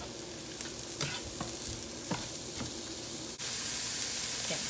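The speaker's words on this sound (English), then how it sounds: "I'm just going to brown up the garlic a little bit." Garlic browning in a hot pan, a dense continuous sizzle and crackle up close with a few scrapes of stirring, cooked outdoors in the boreal forest of the Yukon.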